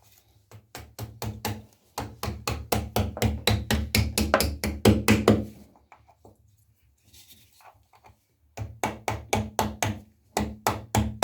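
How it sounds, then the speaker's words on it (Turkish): Rapid runs of sharp hammer taps, close and loud, coming in quick bursts separated by short pauses, while installing a Primanova wall-mounted bathtub seat. "Bir çekiç yardımıyla."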